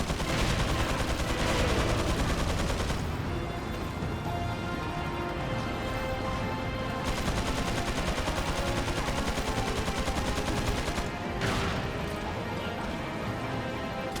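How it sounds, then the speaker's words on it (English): Rapid, relentless gunfire in Resident Evil 4, with a Striker shotgun blasting at soldiers amid dense bursts of shots and crashing impacts, loud and continuous for the whole stretch. "I back myself into the corner and defend myself from the soldiers with the striker."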